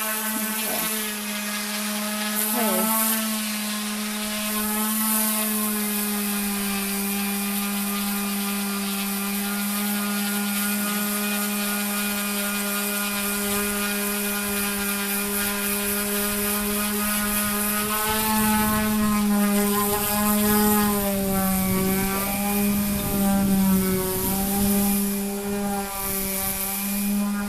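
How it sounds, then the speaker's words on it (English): A power sander drones steadily on a houseboat roof, a loud continuous whine with shifting pitch as it works across the surface, close and unbroken; a single short word is spoken partway through. "it's obviously noisy because of the sanding"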